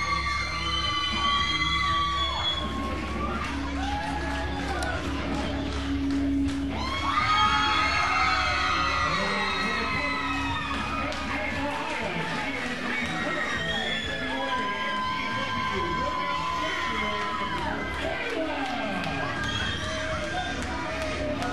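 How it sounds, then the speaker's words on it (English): A standing crowd at a wrestling show applauds and cheers continuously, a dense wash of clapping and whoops while commentators talk over it. "a huge round of applause. The fans are standing."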